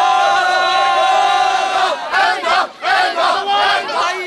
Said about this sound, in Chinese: 完场后，大批球迷仍然表现兴奋，区旗到处飘扬，欢呼声此起彼落。